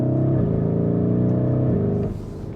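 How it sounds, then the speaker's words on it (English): Stock Lamborghini Urus engine burbling steadily while driving on the road, a close, continuous low rumble with shifting pitch that eases off near the end. "Because that burbling there, this is a stock car."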